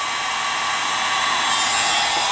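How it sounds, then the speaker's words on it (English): A Wagner HT3500 heat gun's fan runs in cool-down mode with the heating element off, blowing a steady, loud airy whoosh alone throughout. "It runs the motor without the heating element on, and that cools the element down, makes it last longer."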